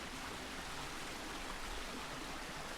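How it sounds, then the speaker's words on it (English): Steady, full-bodied rush of a waterfall pouring into a fish pond, continuous broadband water noise at close range with no talk over it. "fantastic waterfall."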